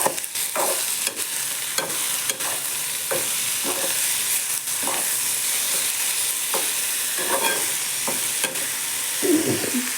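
Mushrooms sautéing in a pan for a homemade mushroom gravy, with a steady sizzle and repeated stirring scrapes at a close, even level, no voices.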